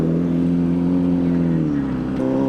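Ducati Superveloce sport bike engine holding a loud, steady rev that eases slightly before a brief blip near the end, close and continuous with no talk.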